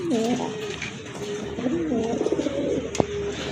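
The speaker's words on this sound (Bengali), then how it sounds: "এটা হচ্ছে একজোড়া নান কবুতর" A pair of Nun pigeons coo close by in soft, repeated rolling calls, with a brief sharp knock near the end and low background noise.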